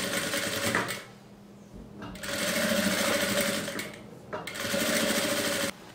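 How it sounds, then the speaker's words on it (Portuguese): A sewing machine stitches the strap of a fabric tote bag, running in long, loud, steady bursts with two brief stops and no speech. "Agora aqui na máquina eu vou passar uma costurinha aqui na pontinha"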